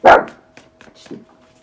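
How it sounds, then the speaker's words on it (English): A little dog gives one sharp, close bark, followed by faint soft yips and whimpers in a quiet indoor room. "I have my little dog, my little barker in here"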